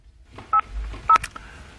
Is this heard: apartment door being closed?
no